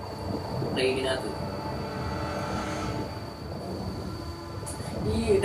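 Train rumble from the Uncharted 4 video game: a low, steady, continuous rolling drone that holds across the whole stretch, with a voice talking over it.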